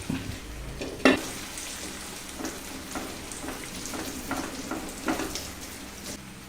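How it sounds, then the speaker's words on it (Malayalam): Vegetables with eggplant frying in oil in a pan, a steady sizzle with scattered clinks and scrapes of a utensil stirring, close and moderately loud. "1/2 മിനിറ്റ് ഇടവിട്ട് ഇത് തന്നെ ഒന്ന് ഇളക്കി കൊടുക്കണം."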